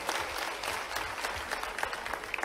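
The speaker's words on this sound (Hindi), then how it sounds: "जोरदार ताली बजाओ इनके लिए" Audience applause at a youth dialogue event at Barkatullah University, a steady mass of clapping from a large hall crowd that continues evenly with faint voices underneath.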